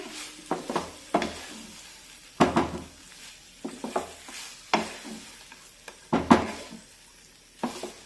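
Apple laddu mixture with fried cashews and almonds stirred in a pan, heard as repeated scraping strokes of a spoon against metal with irregular pauses, close and clear.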